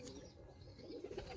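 Pigeons kept by a fancier coo softly, a low murmuring series of throaty calls with a faint flutter, fairly quiet and close, no talk over them.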